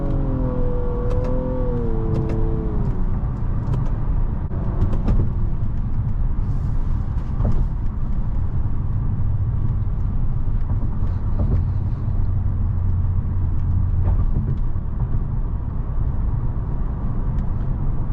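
A 2023 Nissan Maxima SR with a CVT pulls hard at full throttle on an evening drive: a steady, loud low engine drone and road rumble throughout, with a brief rising tone near the start.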